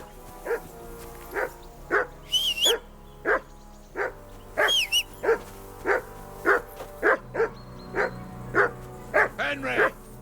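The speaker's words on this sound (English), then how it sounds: "I assume you can hear that damn dog of yours barking." Dog barking from Kingdom Come: Deliverance II, a steady series of about fifteen sharp, evenly spaced barks close by, with a few high whines between them and background game ambience.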